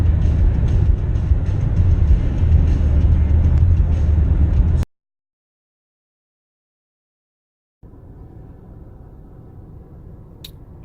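A car drives along the road with a loud, low rumble for a few seconds. Then there is a stretch of silence, followed by a quieter, thinner road drone.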